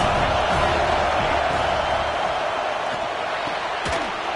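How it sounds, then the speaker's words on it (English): Stadium crowd at a college football game roars in a dense, sustained wall of noise, loud and steady, with scattered thumps and a brief sharp whistle-like rise near the end. "This crowd trying to make life miserable for this offense."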